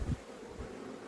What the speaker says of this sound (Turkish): Bu arı.